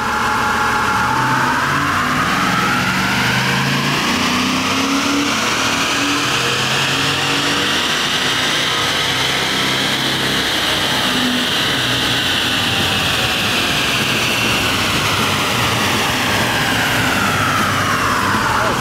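A Ford 6.2L engine strapped to a Dynocom load-bearing dyno roars through a loud, continuous pull, its pitch climbing steadily to a peak and then sweeping back down, heard close with no pause.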